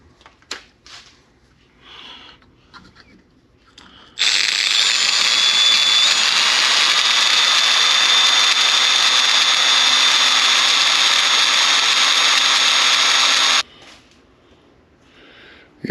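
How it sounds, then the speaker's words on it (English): A step drill bores an 11/16-inch hole through a steel washer with a loud, high-pitched continuous whine for about nine seconds, starting and stopping abruptly. "I'm going to use a step drill"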